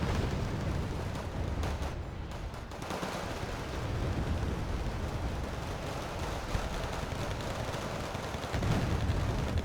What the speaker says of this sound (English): Ron123 getting some good rocket hits in the Martusians, firing a array of RPKs.